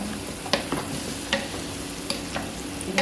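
Chicken salona with potato, carrot and zucchini fries in a pan with a continuous sizzle, broken by several sharp utensil scrapes and taps from stirring at irregular intervals.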